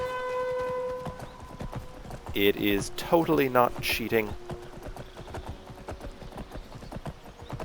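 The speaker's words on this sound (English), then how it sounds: "And yes, I did have a secret horse right here." A horse galloping in the video game Skyrim, with steady rapid hoofbeats running through the whole stretch while a person talks over it midway.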